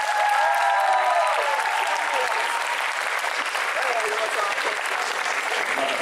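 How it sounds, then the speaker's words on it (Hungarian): A large convention audience gives sustained, dense applause welcoming a cosplay guest on stage, loud and steady throughout with some crowd noise mixed in. "Hatalmas tapsal köszöntsétek Dave Cosplayt!"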